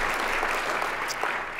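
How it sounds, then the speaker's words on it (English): A steady roar of many hands clapping from a conference audience at an opening session, continuous and full throughout with no voices standing out. "So big a round of applause."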